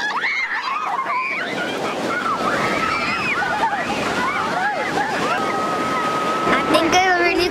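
Ocean surf washing and pushing in at the shore on a school field trip, a steady broadband roar of waves and wind throughout, with children's voices chattering and calling over it.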